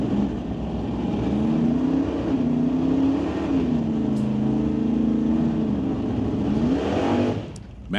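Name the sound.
drag racing car doing a burnout at the start line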